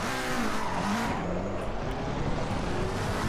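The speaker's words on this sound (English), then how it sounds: "that raspy engine" A raspy race car engine at Monza in Assetto Corsa Competizione, droning steadily and loud throughout with a dense, gritty roar and no talking.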